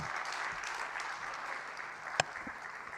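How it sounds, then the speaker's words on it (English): Audience applause at a budget review dinner session, a steady broadband clapping from a room full of guests sustained for the whole stretch, with one sharper close clap standing out near the end. "Just give her another round of applause, please."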